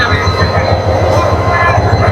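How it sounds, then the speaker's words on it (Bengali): An old 2718-series locomotive pulling a train on the Mymensingh line rumbles and clatters steadily, loud and close, with a continuous heavy low drone and rolling wheel noise throughout. "এটা 2718 সিরিজের লোকোমোটিভ।"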